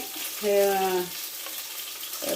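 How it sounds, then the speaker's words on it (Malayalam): Tomato pieces sautéing in hot oil in a pan for a fish curry, a short burst of close sizzling and stirring that swells briefly and then settles to a low fry. "അപ്പം ഇത് ഒന്ന് വഴറ്റണം നമ്മുടെ തക്കാളി."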